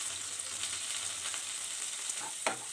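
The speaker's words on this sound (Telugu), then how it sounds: "బాగా పచ్చివాసన పోయేంత వరకు బాగా అటు ఇటు కలుపుతూ వేపండి అడుగు మాడకుండా" Chopped onions frying in oil for eggplant curry, a steady soft sizzle with occasional scraping of a spoon as they are stirred.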